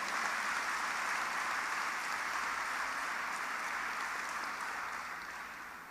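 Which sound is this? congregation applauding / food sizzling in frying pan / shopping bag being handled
congregation applauding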